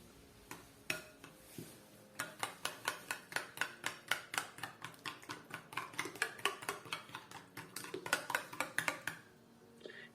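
Dough ingredients are whisked briskly in a bowl, a fast regular series of light clicking strokes against the sides, close and fairly quiet, pausing briefly near the start.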